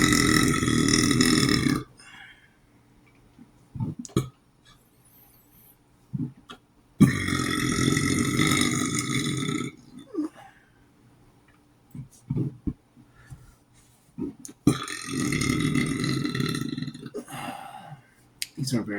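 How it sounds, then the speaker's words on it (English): Several long, loud burps from a person eating cheesy garlic bread and crackers, each rumbling for about two seconds, separated by quieter gaps with small clicks and mouth noises. "These are very interesting burps."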